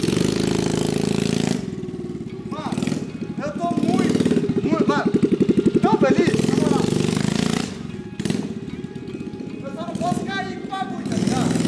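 A small mini quad bike engine runs close by with a rough, rattling idle that swells into rapid pulsing bursts, while people talk over and between the engine noise.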